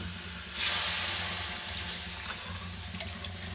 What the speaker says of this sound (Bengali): এবার আমি একটু জল ঢেলে দেবো